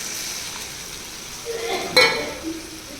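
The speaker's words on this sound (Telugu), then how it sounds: "ఇప్పుడు పులుపు, చింతపండు పులుపు వేసేస్తాం" Prawns sizzle softly in a pan as tamarind goes in, with a faint steady fry, a brief clink of a utensil against the pan midway and a swell of sizzling after.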